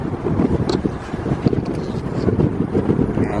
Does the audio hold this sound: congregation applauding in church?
no